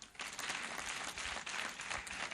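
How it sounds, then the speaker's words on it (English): Graduation ceremony crowd at TEAU University applauds a woman, a steady, fairly distant wash of many hands clapping that starts suddenly and holds for a couple of seconds, with no talk over it. "Clap for her."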